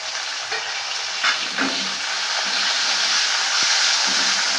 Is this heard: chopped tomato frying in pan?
yes